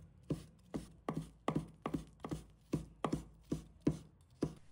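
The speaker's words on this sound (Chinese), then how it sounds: "将泡发好的香菇捞出，控干多余水分，放在案板上，切成厚度均匀的薄片" Soaked, softened shiitake mushrooms sliced into even thin pieces on a cutting board, a steady run of about a dozen crisp knife taps against wood, evenly spaced and close.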